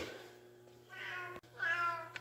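A domestic cat in a workshop meows for kibble, two drawn-out meows separated by a brief pause, close and clear over a low steady electrical hum.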